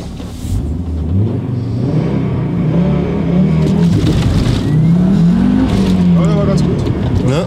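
An Audi RS2 engine revs up with rising, falling pitch sweeps as it pulls away from standstill and accelerates, loud and close, with some voice-like sound mixed in.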